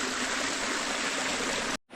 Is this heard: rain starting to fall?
no